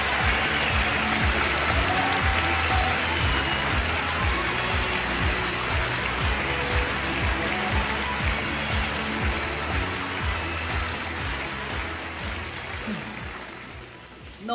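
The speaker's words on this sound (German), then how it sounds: "Einen grossen Applaus für alle anderen Schweizer Talente, die hier noch auf der Bühne sind." Sustained audience applause for contestants at a Swiss talent show semifinal, a dense loud clapping wash that holds steady before slowly tapering off near the end.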